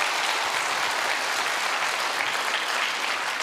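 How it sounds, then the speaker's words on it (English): Steady, dense applause from a large audience welcoming speaker Leo Ackon at a church talk, a continuous even roar of many hands clapping with no pauses. "Let's give him a round of applause."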